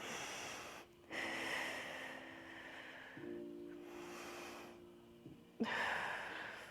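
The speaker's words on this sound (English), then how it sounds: "2 more deep breaths." Slow, deep breaths during a Pilates class, each long inhale and exhale clearly audible and close, with soft steady background music and no talking.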